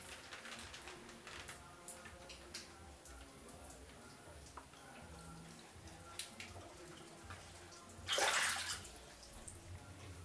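A little water is taken up for scrubbing a bedroom floor during cleaning. A short, close splash comes near the end, after quiet ticking and small household clatter, with someone speaking softly at times.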